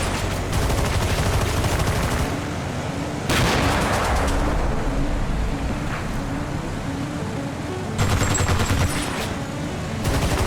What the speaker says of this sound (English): Here's a nice little tank duel.